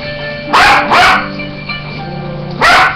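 A dog gives three loud, close barks, two in quick succession and then one more after a short pause, with quieter sounds in between.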